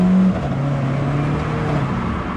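An Alfa Romeo 4C accelerating hard through its gears, the engine note rising then dropping at a shift before climbing again, heard from inside the cabin as a loud steady drone.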